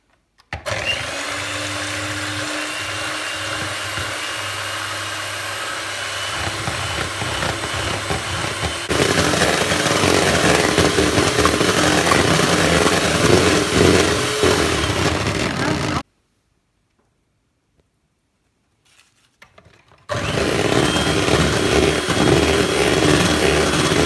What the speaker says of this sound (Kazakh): Жұмыртқан ағын миксерлеп аламыз.